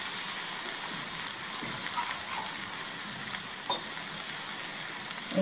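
A ground paste of coconut, fennel and onion sautés for egg gravy with a soft, even sizzle and hiss, quiet and steady, with a couple of faint stirring knocks.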